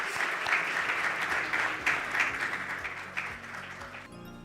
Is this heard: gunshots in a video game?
no